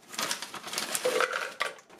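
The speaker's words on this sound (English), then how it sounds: "I'm using some frozen pineapple chunks" Frozen pineapple chunks clatter into a Nutribullet RX short blender cup, a quick burst of hard, clinking knocks and rattles lasting about two seconds, close and fairly loud.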